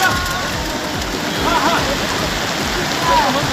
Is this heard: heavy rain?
yes